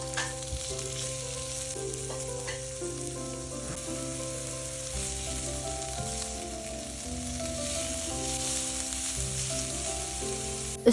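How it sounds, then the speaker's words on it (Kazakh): Onions fry in hot oil in a pan with a soft, continuous crackling sizzle, while steady tonal background music plays underneath. "Пиязды салып, кішкене қызарғанша қуырып алуымыз қажет."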